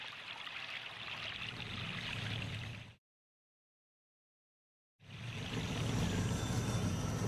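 Creek water flowing steadily in a forest where fallen trees narrow the channel, a continuous rushing wash that cuts out completely for two seconds midway before resuming.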